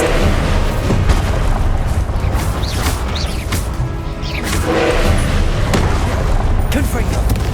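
Fire and combat spells like Incendio cast in Hogwarts Legacy, with a dense barrage of booming blasts, whooshes and crackling impacts that stays loud, punctuated by sharper hits.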